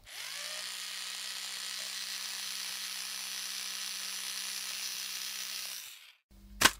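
A string winder, likely motorized, spins continuously as strings come off a guitar with no truss rod, making a steady whirring buzz for about six seconds before it stops, followed by a brief clunk.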